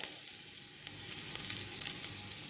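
Ginger dropped into hot spiced oil in a pressure cooker for restaurant-style shahi paneer, giving a steady, fairly quiet sizzle with faint crackles throughout and no talking.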